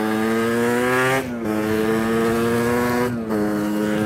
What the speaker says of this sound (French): la moto roule actuellement avec le nouveau piston